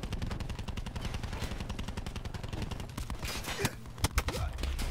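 Rapid automatic gunfire in a Call of Duty match on the Nuketown map, dense continuous bursts of shots close and loud, with a few sharper single reports and clatter near the end.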